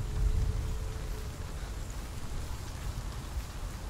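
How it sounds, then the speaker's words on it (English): Rain falling in the video game Hellblade: Senua's Sacrifice, a soft, continuous hiss of drops with a low rumble underneath, fairly quiet and steady throughout. "I love me some rain ASMR."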